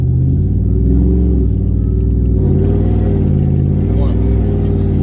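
Supercharged Ram four-door truck engine revving with a blower whine, a loud steady rumble holding through the clip with rising and falling harmonics as the revs change, mixed with voices talking over it.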